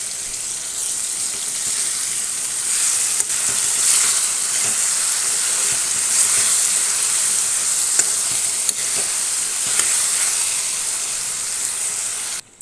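Drumstick curry with small fish cooks in a pan, giving a continuous, fairly loud bubbling sizzle with a few faint clicks and no voices.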